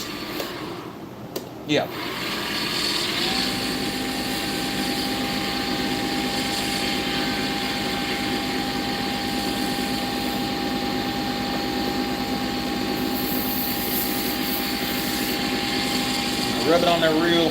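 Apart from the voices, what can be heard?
wood lathe running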